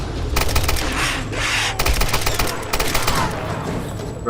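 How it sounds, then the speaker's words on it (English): Loud, rapid volleys of automatic gunfire in Tomb Raider (2013), with dense clustered shots that come in bursts and brief gaps between them. "Bro, I just shot you in the eye."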